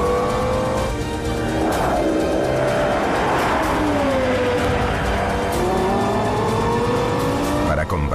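A Lexus LFA driven hard around a test track, its engine loud and close as the pitch rises and falls through gear changes, with tire squeal mixed in over the steady roar.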